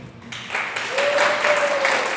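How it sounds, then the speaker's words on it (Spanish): Church congregation applauding a volunteer named Demis, a steady wash of clapping that builds and holds, with a brief held whistle-like tone partway through. "Demis, un aplauso por Demis."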